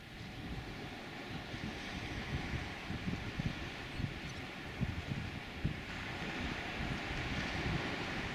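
Beach ambience at Matauri Bay, New Zealand: a soft, continuous wash of surf and wind noise at low level, with faint rumbling gusts and no voices.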